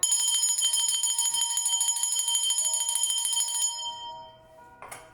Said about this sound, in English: I'm going to anchor the energies through the sound of the bell